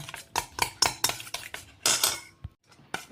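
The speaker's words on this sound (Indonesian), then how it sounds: "Ini kita kocok dengan sendok sampai semuanya larut ya, terutama garamnya." A spoon beating egg with salt and seasoning in a bowl for fried chicken wontons, rapid rhythmic clinking taps against the bowl, close and crisp, with a brief pause near the end.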